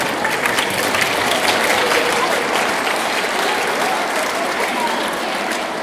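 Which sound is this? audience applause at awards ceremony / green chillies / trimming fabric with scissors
audience applause at awards ceremony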